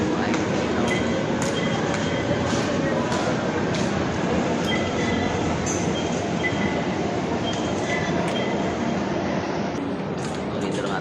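Riding aboard an MRT metro train, a constant loud rumble of wheels on track fills the car with faint rattles and clicks, while people talk over the noise.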